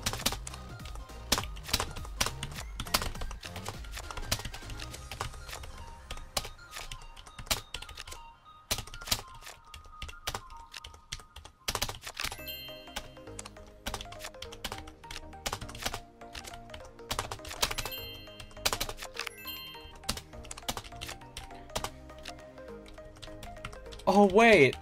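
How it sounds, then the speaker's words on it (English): A computer keyboard's arrow keys and space bar are pressed over and over during a game of Solitaire, making crisp, close clicks in quick irregular bursts with someone talking throughout. "you can locate around using the arrow keys, and you press space to send the card up"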